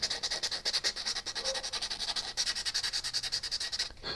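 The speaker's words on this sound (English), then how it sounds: "I always try and sand in the direction of the grain." Hand sanding of a carved wooden guitar neck with sandpaper along the grain: rapid rhythmic back-and-forth rasping strokes, close and steady, with a brief pause midway.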